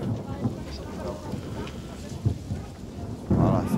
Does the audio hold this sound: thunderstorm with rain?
yes